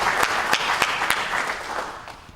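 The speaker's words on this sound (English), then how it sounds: "perhaps we want to give you another round of applause" An audience at a book launch gives a round of applause, a sparse patter of handclaps with a few sharper individual claps, gradually thinning out over a couple of seconds.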